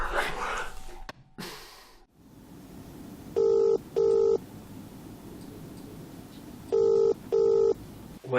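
A phone call rings out twice, each ring a pair of loud electronic tone bursts with a pause between, over a quiet room murmur with some soft speech early on.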